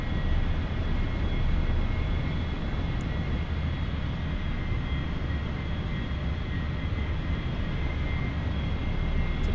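A-4E Skyhawk jet engine droning steadily in DCS World flight simulation during carrier landing approach, a loud continuous roar with a high whine holding level throughout, no talk.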